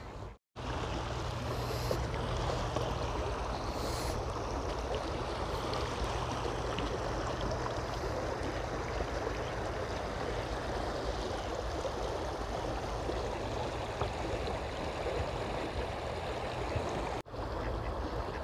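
River water flows over stones at a city river beach, a steady close rushing murmur that runs continuously, briefly cut off near the start and again toward the end.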